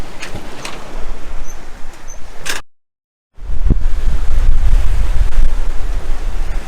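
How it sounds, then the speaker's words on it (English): A sailing ship pushed along by a kite on an Atlantic crossing, with loud, steady wind buffeting the microphone and constant rushing sea waves, broken by a brief dropout of silence. "here's the mighty ship sailing through the sea."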